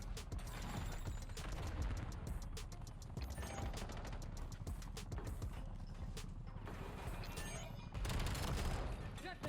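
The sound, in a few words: Razor 9mm SMG gunfire in the video game Black Ops 7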